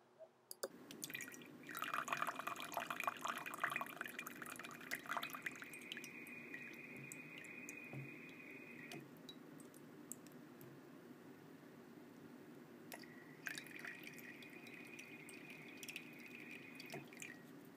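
Water trickling and dripping through an Arduino-controlled solenoid valve with weak flow, a steady close splashing stream that swells early, then continues with intermittent higher hiss, no talk.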